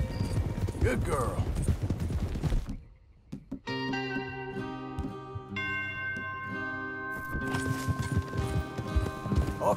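Rhythmic hoofbeats of galloping horses pound up close in the video game Red Dead Redemption 2, broken by a stretch of sustained musical tones, then the hooves return.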